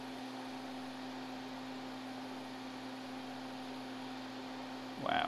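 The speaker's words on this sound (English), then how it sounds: "And I'm gonna turn on my fume extractor because I don't wanna breathe this stuff in. That's what that noise is." A small soldering fume extractor fan runs steadily with a low electrical hum and airy whoosh, constant and close, with a brief clunk of handling at the very end.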